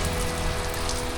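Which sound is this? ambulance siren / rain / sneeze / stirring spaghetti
rain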